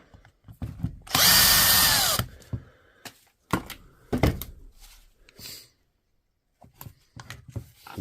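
A power drill unscrews the final screw from a DeWalt tool under repair, one loud sustained whir of about a second, followed by scattered clicks, knocks and rattles of parts being handled nearby.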